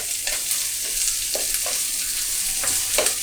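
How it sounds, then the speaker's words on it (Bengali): Chopped onion and green chillies frying and being stirred in a pan: a steady hiss of oil with soft, irregular scraping strokes from the stirring, close and alone. "কাঁচামরিচ পেঁয়াজটা থেকে কাঁচা গন্ধটা যাওয়া পর্যন্ত আমি নেড়েচেড়ে ভেজে নিচ্ছি।"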